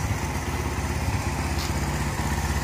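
A Honda car engine runs steadily at idle at an outdoor car market, a loud close rhythmic putter that holds evenly throughout with no talk.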